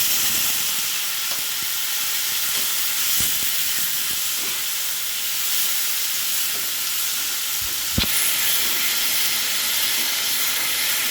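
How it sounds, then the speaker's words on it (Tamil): Onion and tomato sautéing in a pan with mustard seeds for tomato rice, a steady close sizzle with a few scraping stirs and taps, no talking. "இது கொஞ்சம் நல்லா வதங்கணும்"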